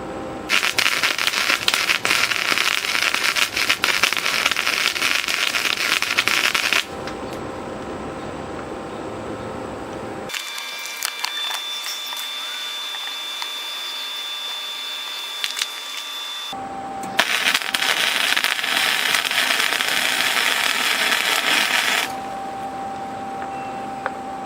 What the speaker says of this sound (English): I'm going to weld that one joint right there.